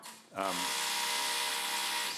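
A power drill whirs continuously just outside a community meeting room, starting abruptly after a short pause and running steadily at a moderate distance.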